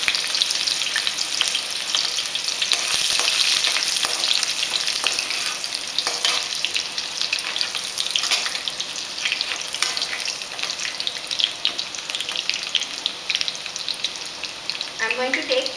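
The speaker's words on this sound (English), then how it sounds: "When the oil is heated, I am going to take chopped garlic." Chopped garlic, three to four cloves, frying in hot oil for an egg noodle dish, a steady loud sizzle with occasional stirring scrapes running throughout and a few clinks near the end.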